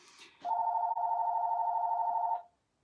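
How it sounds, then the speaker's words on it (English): A single telephone ring sounds as a steady electronic tone lasting about two seconds, clear and close, ending abruptly into silence. "Phone's ringing."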